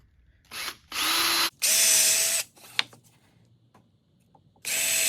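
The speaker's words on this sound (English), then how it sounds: "I'm going to drill a hole halfway between" A power drill bores a hole through a wooden drawer front, with several loud whirring bursts of motor spin that rise and stop, short pauses and clicks between them, close and without talk.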